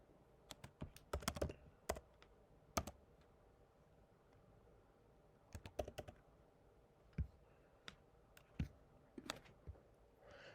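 Someone types on a computer keyboard, producing short bursts of crisp key clicks with pauses between them, close and fairly quiet in an otherwise still room.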